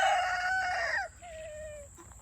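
An Amberlink rooster crows nearby, one loud drawn-out cock-a-doodle-doo that fades with a trailing tone, heard on its own in a quiet farmyard.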